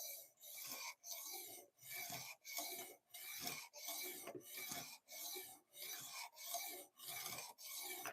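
A knife blade is drawn over the stone of a clamp-style sharpener in steady back-and-forth rasping strokes, about fourteen even strokes with brief pauses between them, close up and with no voices.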